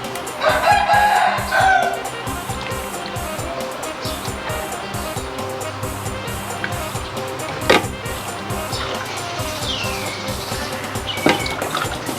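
A rooster crows and chickens cluck in the background of an outdoor Thai dessert-making spot in Thailand, heard over busy ambient noise and scattered clatter, with people talking nearby.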